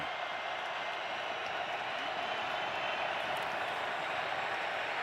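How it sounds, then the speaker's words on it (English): Steady, dense roar of a large stadium crowd at a Dallas Cowboys versus Oakland Raiders NFL football game on a second down and 14, a continuous broad wash of noise without breaks. "Crowd roaring on a 2nd down and 14"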